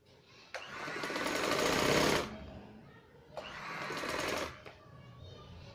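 A sewing machine stitches cloth for a shirt collar band in two sustained bursts of rapid motor chatter, each about two seconds long, close up with a quiet pause in between.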